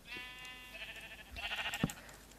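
Sheep bleat in a small pen in the Minecraft video game, a few wavering, synthetic-sounding bleats in quick succession, clear and fairly close, with no talking.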